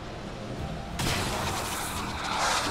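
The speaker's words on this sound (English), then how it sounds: "You're dead by the bomb." A bomb blows up in the XCOM: Chimera Squad video game, a sudden loud broadband blast rising over a low rumbling background and lingering as a sustained roar.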